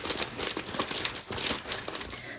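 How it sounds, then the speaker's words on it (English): A paper map crinkles and rustles while being folded, loud and close, in a rapid series of crackling bursts with brief pauses. "Sorry about the crinkle noise,"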